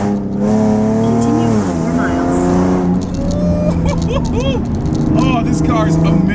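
Nissan 370Z driven hard through narrow canyon corners, engine revving and rising and falling in pitch with repeated gear changes, heard from inside the car while a person talks over it.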